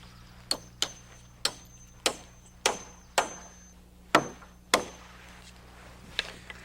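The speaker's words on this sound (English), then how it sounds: "we nail in a permanent sway brace" Single hammer blows drive nails into a wooden sway brace on a roof ridge frame, about ten sharp knocks at an uneven, slightly quickening pace, close and clear with no talking.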